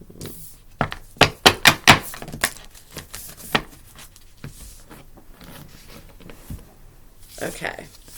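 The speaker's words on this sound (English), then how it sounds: "I swear I shuffle these," Tarot cards shuffled by hand, a quick run of crisp riffling slaps near the start, then softer scattered shuffling, with a voice talking over parts of it.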